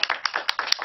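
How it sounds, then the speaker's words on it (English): Short burst of audience applause for a presenter at an undergraduate multimedia research showcase, several sharp claps close together and fairly loud, lasting under a second. "Let's have a round of applause for John."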